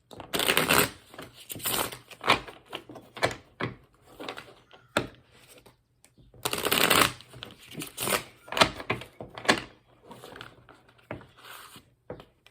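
Witch's Tarot cards being shuffled by hand, a dry papery riffling and patter that comes in repeated bursts with short pauses between them, close and fairly loud, with no talk.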